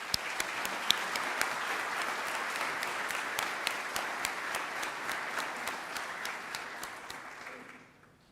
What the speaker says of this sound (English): give them a really well-deserved round of applause